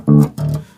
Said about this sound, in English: Clean tone sounds like this